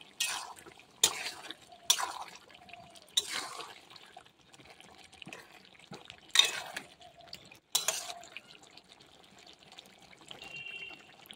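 A spoon stirs chicken curry with two chunks of medium potato in a covered pot, giving soft, faint scraping and wet sloshing in a few separate bursts with quiet gaps between.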